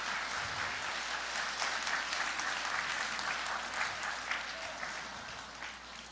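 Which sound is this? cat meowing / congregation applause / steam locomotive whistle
congregation applause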